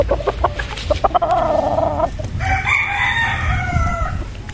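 A Golden Boy Sweater gamefowl rooster crows close by in two long, loud calls, with some clucking and rustling at the start.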